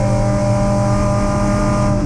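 Trevor Lindsay's fuel-injected 2.5 litre straight-six race car, a Triumph GT6, holds a loud, steady engine note at close range, drowning everything else at an MG race meeting.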